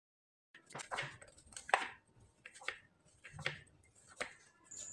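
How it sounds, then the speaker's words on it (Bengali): Wet hands knead a soft dough for a bread-and-coconut pitha, giving irregular close slaps and squelchy presses with short pauses between them, with no talking. "এখন হাতে ঠান্ডা জল লাগিয়ে ডোটাকে খুব ভালোভাবে তৈরি করে নিতে হবে।"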